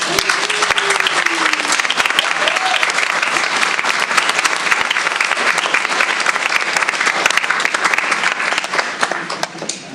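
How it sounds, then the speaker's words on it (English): Audience at a school board meeting breaks into sustained applause, steady dense clapping filling the room for the full stretch before tapering slightly at the end. "Can we give them another huge round of applause?"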